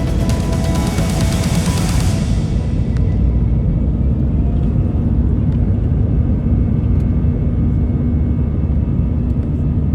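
Airliner engines during a go-around on approach to Zurich roar loud and continuous from inside the cabin, a broad hiss easing after a couple of seconds into a steady deep rumble.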